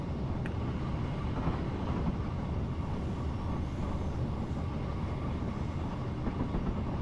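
A train rolls along steadily in Train Simulator 2019, a continuous dense rumble of wheels and motor with faint rhythmic track clatter, unbroken for several seconds.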